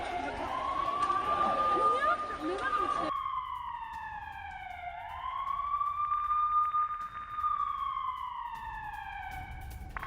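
A police siren sound effect in a news broadcast, loud and near, wailing up and down in slow sweeps, with crowd chatter underneath for the first few seconds.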